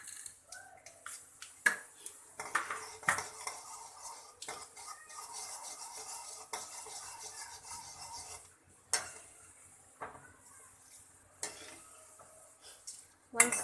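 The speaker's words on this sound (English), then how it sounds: "Once the mustard starts popping" Mustard seeds, jeera, chana dal and urad dal sizzle in oil, giving a faint steady hiss with scattered sharp pops and a few scraping stirs, with no voices.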